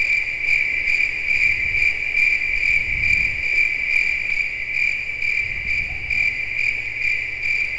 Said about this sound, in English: I do like the cricket chirping effect in the background.